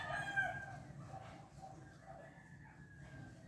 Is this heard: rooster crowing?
yes